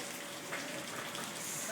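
Water from a 7th-floor gym pool, shaken loose by an earthquake in Tokyo, pours and spatters down onto the ground below, a steady dense hiss of falling water with no break, fairly close.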